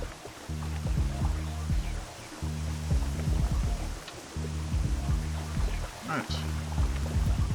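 Rainfall in Minecraft forms a continuous soft wash under repeating background game music and scattered in-game clicks, while someone briefly speaks over it.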